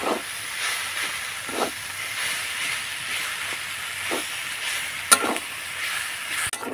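Mashed boiled potato is sautéed with vegetables in a wok, giving a steady soft sizzle and hiss broken by repeated scraping strokes of a spatula against the pan.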